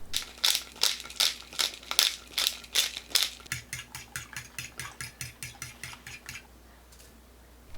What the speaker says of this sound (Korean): 계란 3개, 소금 1꼬지, 설탕 3스푼 고추 넣어 섞어주세요.